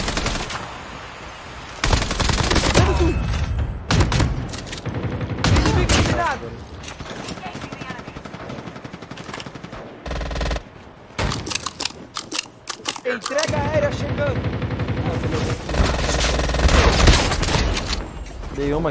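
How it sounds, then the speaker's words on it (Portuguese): Rapid bursts of automatic gunfire from a Call of Duty firefight, loud and dense in clustered volleys with brief gaps, while players talk excitedly over the shooting. "Tô trocando tiro aqui."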